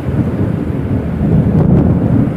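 Kalbaishakhi nor'wester thunderstorm heard as a continuous loud low rumble of wind and rain buffeting the microphone, with a deeper swell of thunder near the end.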